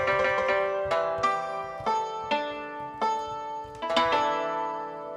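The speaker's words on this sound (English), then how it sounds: "I think it's a Japanese instrument that sounds like this." A plucked Japanese string instrument plugin plays a slow melody of bright, twangy notes, each struck sharply and ringing out before the next.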